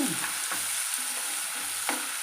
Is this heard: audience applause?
no